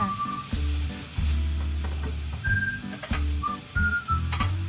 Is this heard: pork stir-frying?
yes